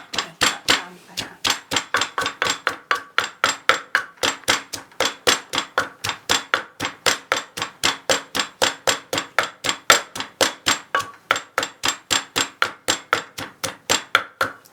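Steady, rapid pounding of red curry paste in a mortar, dozens of sharp wooden thuds in an even rhythm, close and loud with no talking.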